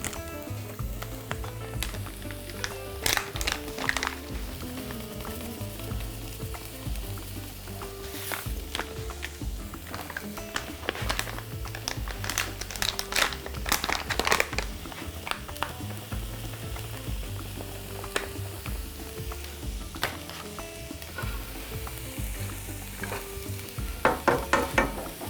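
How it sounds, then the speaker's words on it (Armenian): Chopped onion sizzles steadily in a hot pan with repeated scraping and stirring strokes from a utensil, close and moderately quiet, with no talking throughout. "Թող սոխը տապակվի"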